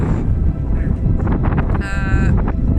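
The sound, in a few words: strong wind blowing outdoors in a nature reserve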